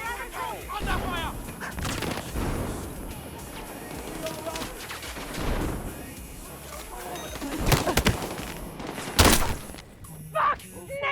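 Video game battle gunfire crackles in scattered bursts and sharp single shots, some close and loud, mixed with shouting voices and background chatter.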